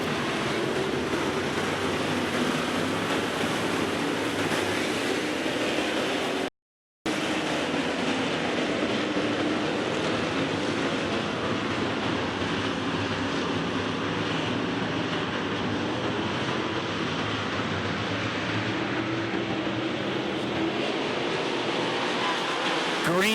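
Race cars circling the Ogilvie Raceway oval, a dense continuous roar of engines from start to finish, broken only by one short dropout near the start, with no talk heard over it.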